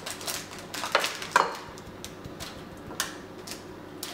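Metal spoon patting and pressing flapjack mixture down in a tin, with a few light, irregular taps and clinks against a quiet kitchen background.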